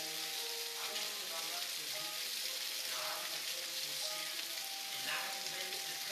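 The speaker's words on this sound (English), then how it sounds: "So now, I'm about to add my purple onion." A purple onion sizzles and fries in a hot pan beside ribeye and sweet potato cooking, a steady broadband hiss running through the whole stretch with a faint voice murmuring underneath.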